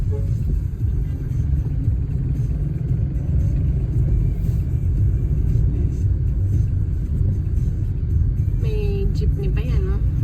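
A jeepney rolls along a major road in Capas, Tarlac, with a continuous close engine rumble and traffic noise while people talk over it.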